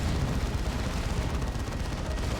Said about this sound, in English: we have some Deathwing Terminators on the field for Putin with an assault cannon